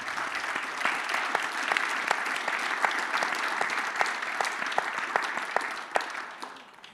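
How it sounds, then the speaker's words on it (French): An audience at an evening results presentation applauds steadily for several seconds, a dense patter of many hands clapping at moderate distance in a room, tapering off at the end. "vous pouvez vous applaudir et applaudir nos intervenants de ce soir"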